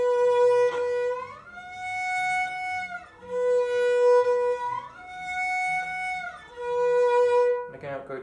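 A bowed string instrument plays a same-finger A shift exercise, sliding up and back between sustained notes in four repeated phrases, loud and close, with a short breath of noise at the end.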